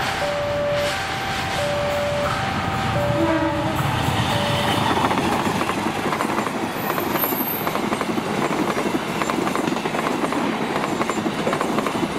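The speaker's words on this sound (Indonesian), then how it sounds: "yang mau lewat ini adalah kereta api Fajar Utama YK 141 rute stasiun Yogyakarta ke stasiun Pasar Senen" The Fajar Utama YK 141 passenger train passes close by, opening with a series of short horn blasts before a loud, dense rush of wheels and rattling carriages fills the rest, with a brief high squeal.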